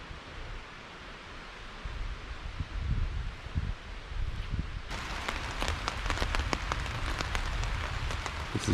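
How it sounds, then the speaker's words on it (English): Rain pattering steadily on an HMG 8x10 DCF tarp shelter during an overnight camp on the River to River Trail, a soft hiss that swells into denser, closer drumming partway through, with no talking. "It finally started raining."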